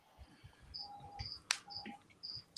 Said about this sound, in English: As you can hear, my cricket is still alive.